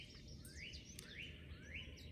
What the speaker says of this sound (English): There is a red-headed woodpecker in the background, if you can hear it.